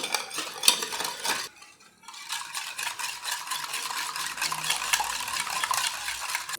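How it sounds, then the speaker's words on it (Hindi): A spoon stirs plain sugar into a chocolate mixture in a pan, giving steady scraping and clinking strokes close by. One short pause breaks the stirring before it carries on without talk. "ये नॉर्मल चीनी है तो इसको हमें मिक्स करना है कि ये बिल्कुल गायब हो जाए।"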